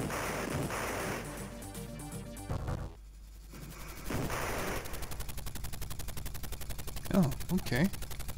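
Rapid gunfire rattles out in the arcade game POW Prisoner of War, a fast regular burst of shots over game music, with a few heavier impacts near the end.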